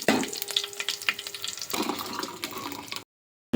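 Cooked dal for dosakaya pappu pours into a hot tempering of garlic, curry leaves, cumin, mustard seeds and dried red chillies, a wet splashing sizzle that bubbles and hisses for about three seconds before cutting to silence.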